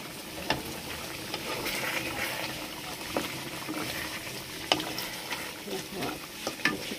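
Meat sizzling in a pan on a home stove, a continuous moderate frying hiss punctuated by occasional stirring clacks and scrapes of a spoon, fairly close and alone without voices.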